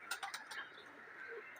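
A pet racing pigeon coos softly in a loft, a few short throaty pulses at the start trailing off into a faint murmur, close by and quiet.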